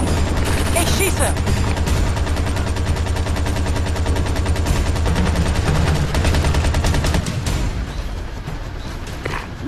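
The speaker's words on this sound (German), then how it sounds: "Ich schieße." Sustained, loud automatic gunfire in the tactical shooter Ghost Recon Advanced Warfighter 2, dense rapid bursts running almost continuously through a combat scene and easing slightly at the end.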